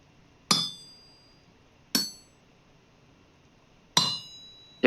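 Hammer strikes on iron at an anvil while smithing in the game Vintage Story: four sharp metallic clinks, evenly spaced about a second and a half apart, ringing briefly over a quiet background.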